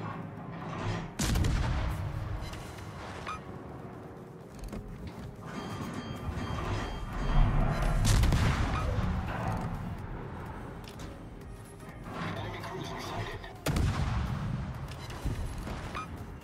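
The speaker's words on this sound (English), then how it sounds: "Concentrate fire on the enemy warship." Warship guns in a naval battle game, firing at an enemy warship: several heavy, booming salvos spaced through the stretch over a steady rumble of engine and sea, moderately loud.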